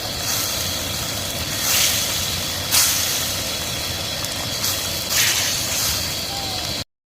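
Spinach paste gravy with salt, turmeric and a splash of water boils in a pan, a steady bubbling hiss with a few louder surges before it cuts off abruptly.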